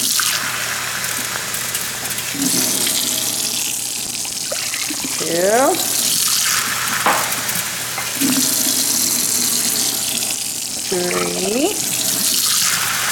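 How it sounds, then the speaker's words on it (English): Tap water runs steadily into a cooking pot for pretzel bites, a continuous rushing flow with a voice counting over it at intervals. "now we need 4 cups of water into the pot"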